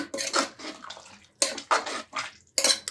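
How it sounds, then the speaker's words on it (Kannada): Water poured into an aloo methi (potato and fenugreek) curry in a cooking pot, arriving in several short splashing bursts with brief pauses between, close and fairly loud. "ಸ್ವಲ್ಪ ನೀರು ಹಾಕ್ತಾ ಇದ್ದೀನಿ ನಾನು"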